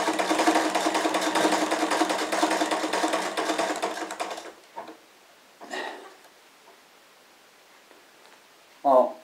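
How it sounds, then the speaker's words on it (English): A sewing machine stitches leather for a tractor cushion, running as a steady, close mechanical whirr for about four seconds before stopping, followed by quiet handling noises and a brief louder sound at the end. "that's sewing alright, that is"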